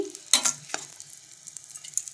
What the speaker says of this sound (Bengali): এই যে বেগুন ভাজাটা হয়ে গেল তো এটা তুলে নিচ্ছি